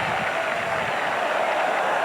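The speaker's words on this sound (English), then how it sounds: "you will hear the cheer when he meets the ball" A stadium crowd cheers in a steady, dense roar at a 1991 WLAF American football game as a punt is kicked, loud and continuous throughout with no voices standing out.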